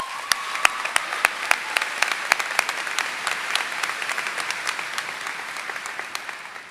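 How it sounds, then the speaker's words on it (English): Audience applause for the band at an Oregon high school graduation ceremony, a dense, steady wash of clapping from many hands with sharp individual claps standing out, holding strong for the whole stretch and easing slightly near the end. "another big round of applause"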